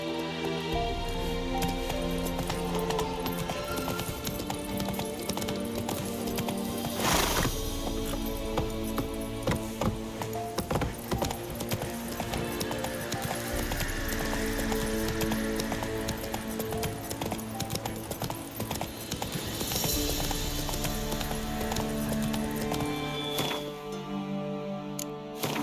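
Roach, a horse in The Witcher 3 video game, gallops in a steady, rhythmic clip-clop of hooves, loud and continuous over an ambient game soundtrack, with a brief whoosh partway through.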